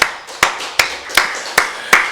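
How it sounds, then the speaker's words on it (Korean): A church congregation at a Wednesday service clapping in a steady rhythm, six sharp claps at even intervals, loud and close, with no talk. "우리 살아계신 하나님께 박수 영광 드리겠습니다"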